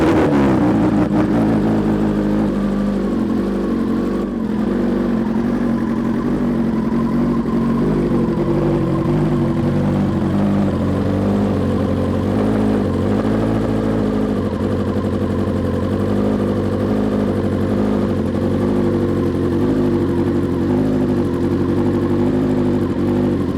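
Sport motorcycle engine, in a service setting alongside a 2021 ZX-10R and a BMW S 1000 RR, running close by with a steady mid-pitched idle and gentle revs, no talk.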